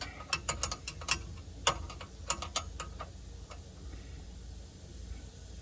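Wrench working loose the four 13 mm bolts on a chain bar, a string of quick ratcheting clicks in bursts, fairly faint over a low background hum, with no voices.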